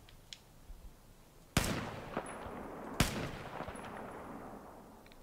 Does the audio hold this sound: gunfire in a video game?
yes